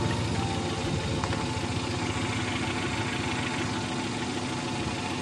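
A car engine idles with a faulty camshaft position (CMP) sensor that sets code P0340, making a steady, close mid-pitched rumble with a faint repetitive knock-like pulse and no talking.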